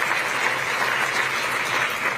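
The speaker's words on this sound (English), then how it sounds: "the quality of the audience that she has, that they applaud these things" A crowd at a Kamala Harris speech claps steadily and fairly loudly, a dense continuous applause throughout with no voices on top.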